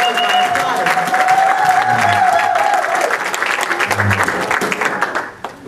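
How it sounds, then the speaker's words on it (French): A church congregation applauds together during a service, a dense, steady roar of clapping that stays loud for several seconds before tapering off abruptly at the end, with a faint tone and scattered voices blended underneath. "Donnons gloire à notre Dieu en applaudissant."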